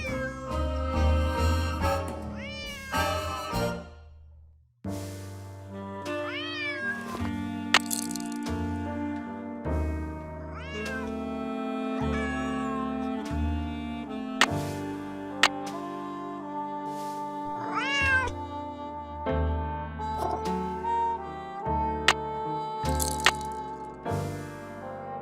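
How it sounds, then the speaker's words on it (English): A cat in the Nancy Drew: Secret of the Old Clock game meows repeatedly, with several drawn-out cries spread across steady background music. "Otherwise, he'll just keep meowing."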